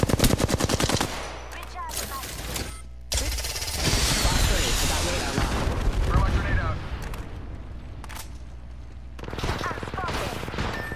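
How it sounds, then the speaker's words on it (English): Rapid automatic gunfire fills an Apex Legends match, with long rattling bursts, short breaks and sharp single shots, loud and close, mixed with other game effects and a voice now and then. "I'm getting shot at."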